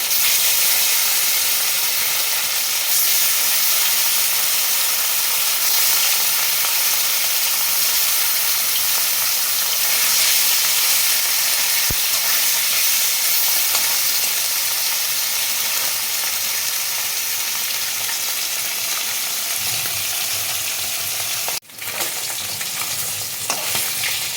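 Pieces of katla fish frying in hot oil in a kadai, a loud, steady, dense sizzle that carries on unbroken, with one brief clatter near the end and no talking.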